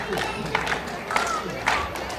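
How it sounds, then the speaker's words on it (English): A crowd at a pro wrestling tag team championship match cheers and roars, with steady broadband noise and a few louder surges every half second or so. "Crowd getting into it"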